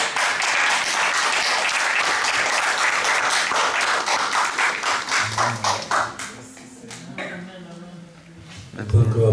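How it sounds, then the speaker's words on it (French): A church congregation claps loudly and densely, the applause thinning into scattered claps before voices take over near the end. "On peut encore applaudir pour le Seigneur."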